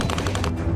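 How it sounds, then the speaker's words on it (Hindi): A short, rapid burst of automatic gunfire in wartime combat between Russia and Ukraine, several fast cracks in quick succession, loud and over in under a second. "गोलियां चलती हैं,"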